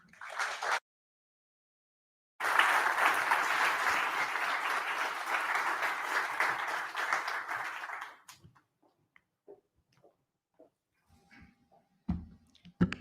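Audience applause welcoming Ambassador Chan to the stage at a Singapore event, a dense steady clapping lasting several seconds after a brief spoken burst, then fading to scattered small sounds.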